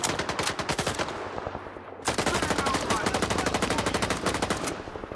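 Sustained automatic gunfire in S.T.A.L.K.E.R. 2, rapid loud bursts nearly continuous, with a brief pause before firing resumes; no distinct grenade blast stands out.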